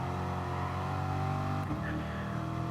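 A Porsche GT4 engine racing in GT Sport drones loudly and steadily with a mid-range harmonic whine, shifting tone briefly near the end as the revs change.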